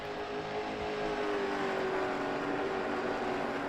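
Late model stock cars race at Thompson Speedway, a steady, moderately distant engine roar with a rising whine as the pack passes, continuous and unbroken with no voices.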